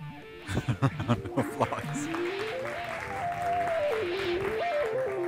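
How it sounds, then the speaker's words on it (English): Conference audience at a tech summit applauds as a founder is introduced, a steady wash of clapping running under a loud melodic musical tone, with a voice briefly heard. "Round of applause, guys."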